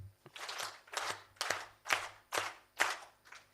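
Six group claps at a formal higher-education event in Kenya, evenly spaced sharp bursts from a crowd, moderately near and with no talk over them.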